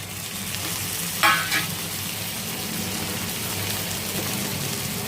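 Potato and fenugreek leaves frying in oil as tomato is added, a steady close sizzle with one brief splash and stir of the spoon early on, then the frying continues evenly.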